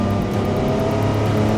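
Porsche 962 Le Mans race car with a turbocharged engine, held in third gear, revving hard at close range in a steady, loud, continuous drone with no voices.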